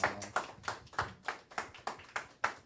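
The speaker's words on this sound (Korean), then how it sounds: "박수 부탁드리겠습니다" Audience applause, a steady stretch of claps from a group, fairly close and even in rhythm, with no talking.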